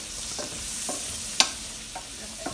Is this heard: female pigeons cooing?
no